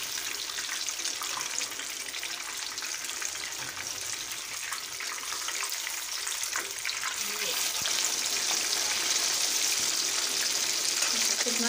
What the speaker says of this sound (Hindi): आपने इसको लो टू मीडियम फ्लेम पे ही फ्राई करना है